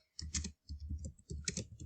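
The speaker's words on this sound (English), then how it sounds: "So start typing. So I'm just going to type in a blog post" Computer keyboard keys click in quick bursts as a blog post prompt is typed, three short runs of close, crisp tapping separated by brief pauses.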